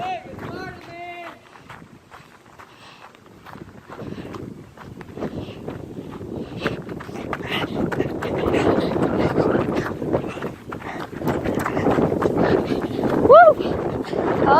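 Outdoor wind buffeting a microphone at a nature park, rising into a loud, rumbling roar over the second half with brief voices and a shout in between.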